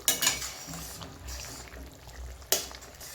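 A spoon scraping and clinking against a pot while pumpkin potato curry is stirred, with two sharp metallic knocks at the start and near the end, and a quiet bubbling simmer between.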